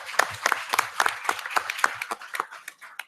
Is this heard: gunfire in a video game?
no